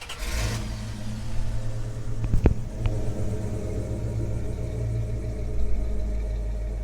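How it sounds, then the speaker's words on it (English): A restored 1991 Dodge Ramcharger truck engine rumbles steadily outside on a very cold day, with a deep exhaust drone, a couple of brief clicks partway through, no voices. "Let you guys hear the exterior exhaust note."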